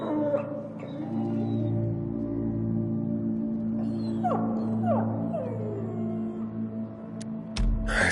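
A dog in the game Dying Light 2 gives a few short, rising and falling whines in the middle of the clip over a steady low ambient hum, ending in a couple of sharp clicks.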